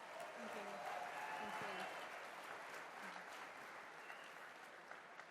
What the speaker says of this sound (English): can we please all give these women a round of applause for their work?